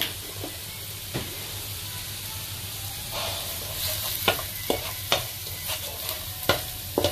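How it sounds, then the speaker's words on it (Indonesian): Ginger and garlic sauté in a pan with a soft, steady sizzle, then sharp clicks of a spatula scraping and tapping grow more frequent toward the end. "Kita tumis halia dan bawang putih ni sehingga naik bau."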